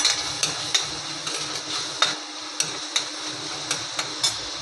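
Red masala frying in a pan for a prawn curry, a steady sizzle with a series of sharp spoon or spatula taps against the pan at regular intervals, close and alone without talk.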